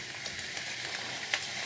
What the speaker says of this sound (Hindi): आप देख रहे हैं कितनी जल्दी फ्राई हो रहे हैं ये।